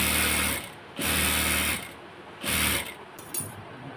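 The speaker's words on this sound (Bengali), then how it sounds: "এখানে এখন মুখটা চিকন করে সেলাই দিতে হবে।" A sewing machine stitching ladies' pants, three close bursts of fast mechanical whirring and clatter separated by short pauses, with no talk.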